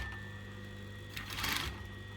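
Sewing machine stitching a collar, running as a steady mechanical hum that builds into a louder, rattling whir of the needle for about half a second before easing back, alone without talking.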